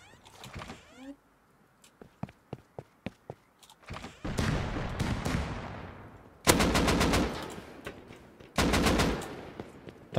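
Gunfire in the survival game Rust: a run of sharp single shots, then loud sustained bursts of automatic fire in several volleys, fairly close and alone without talk.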